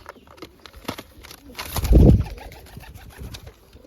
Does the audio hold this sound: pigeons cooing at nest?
yes